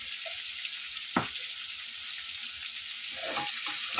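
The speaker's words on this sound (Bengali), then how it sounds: "চিকেনটাকে ভাজবো। চিকেনটা একটু ফ্রাই হোক" Chicken seasoned with salt and black pepper fries in a pan, a soft continuous sizzle marked by a sharp clatter early on and a few knocks of utensils near the end, with no talking.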